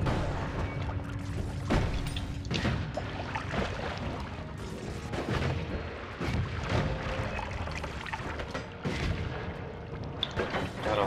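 Explosions in the game Noita come as a dense, continuous roar of crackling booms and rumbling blasts, loud and sustained, with repeated sharp bursts layered throughout.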